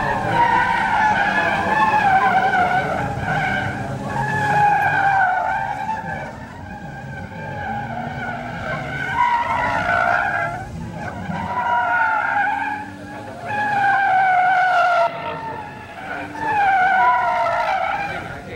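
Gymkhana race cars, one black and one red, skidding at an international gymkhana event, with tires squealing in long repeated waves over engine roar, loud and continuous throughout.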